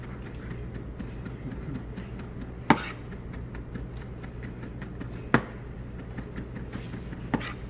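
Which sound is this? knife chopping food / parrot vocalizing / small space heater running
knife chopping food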